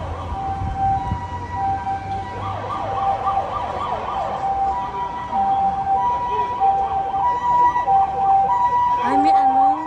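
A police siren wails and warbles steadily as it passes in a Hokkaido street, loud and close over traffic rumble, with its pitch rising near the end; people can be heard talking faintly underneath.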